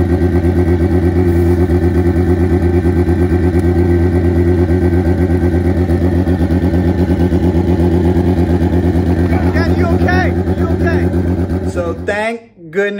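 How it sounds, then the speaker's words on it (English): A turbocharged Honda CBR 1000rr drag bike, tuned to about 700 HP, roars through a test run with a steady, loud buzzing engine drone that breaks into clatter at the end. "Let's check out some test runs. There it is, guys. World's quickest and fastest Honda street bike."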